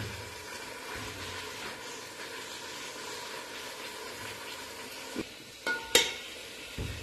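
Peas and potatoes cook in a pan with a steady, soft sizzle and stir, with a few sharper clinks near the end; no talking.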